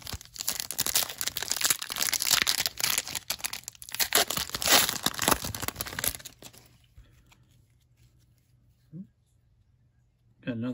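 Close, loud crinkling and tearing of a 2021-22 Skybox Metal Universe hockey card pack wrapper, continuous rustling for several seconds, then near silence broken by a couple of brief handling sounds.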